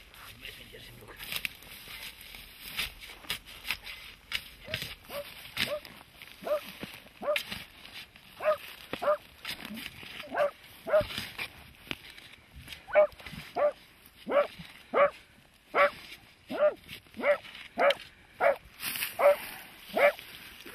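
Hunting dogs bark during a burrow hunt in an underground den, sharp repeated barks and yips that come faint and irregular at first, then grow into a steady, louder rhythmic series.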